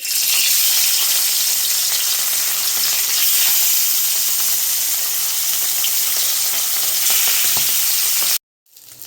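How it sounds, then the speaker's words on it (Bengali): Pomfret fish frying in hot mustard oil in a kadai, giving a loud, continuous, dense sizzle that holds steady throughout and cuts off abruptly near the end. "তার জন্য সরিষার তেল দিয়ে দিচ্ছি তেল গরম হয়ে গেছে মাছগুলো দিয়ে দিচ্ছি"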